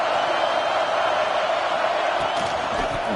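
Steady stadium crowd roar in a college football video game, Ohio State versus Minnesota, a continuous broadband wash of voices holding at an even level throughout.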